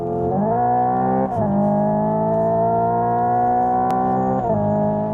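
Synthetic engine tone fills the cabin of a 2025 Hyundai IONIQ 5 N electric car, a steady harmonic whine that dips and resumes twice as if through gear shifts, loud and continuous.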